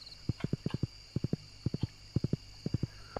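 Horse hooves clip-clop in a steady trotting rhythm in the Stardew Valley video game, crisp and close in short paired bursts over a faint steady background hum.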